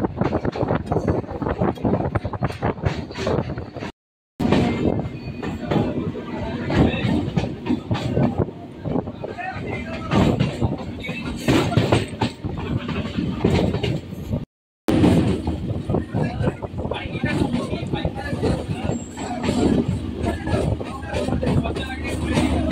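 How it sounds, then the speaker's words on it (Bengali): Barrackpore local train rolling along the rails toward Kolkata, a dense continuous rumble and clatter heard from inside the carriage, with two brief dropouts and faint voices in the background. "ট্রেনটা দেখুন কি সুন্দর বাঁক নিয়ে ছুটে চলেছে"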